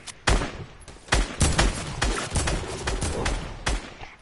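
Legendary pump shotgun in a video game firing a string of loud, close blasts, about eight shots spaced irregularly over a few seconds, each with a sharp crack and a short decay.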